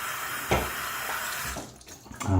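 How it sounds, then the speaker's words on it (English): Tap water runs steadily into a sink while a shaving razor is rinsed under it, a close broadband splash with brief knocks and shifts as the razor moves through the stream. "Okay, I'm going to rinse this partially."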